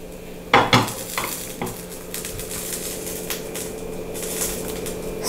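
A utensil stirs burnt onion and coconut chutney ingredients in a lightly oiled pan, giving a few sharp scrapes and knocks near the start and then a steady soft rustle with a faint sizzle underneath.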